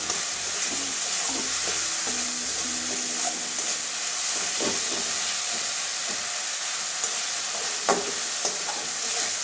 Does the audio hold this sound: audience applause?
no